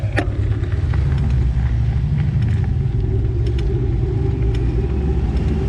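Road traffic passes close by, a loud continuous low rumble of car engines and tires with faint higher clicks, no speech over it.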